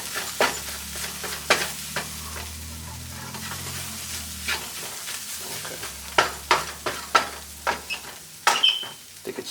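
Jamaican lentil curry cooking in a pan, a soft low sizzle and bubbling with a string of sharp spoon scrapes and taps from stirring that grow busier toward the end, no talking.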